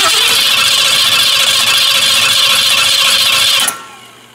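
A V8 in a 1993 GMC Jimmy with a bent flywheel runs loud and steady, a dense harsh roar for most of the stretch before cutting off abruptly near the end.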